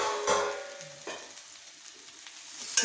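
Stuffed okra (bharli bhendi) stir-fried in a pan, giving a soft steady sizzle with a few sharper scraping stirs near the start and end, close and moderately quiet, with no talking.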